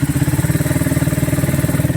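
A motorcycle with 98,000 km on it, freshly refreshed with new piston rings and valve guides, idles steadily with a loud, even, rapid thumping pulse and no talk over it.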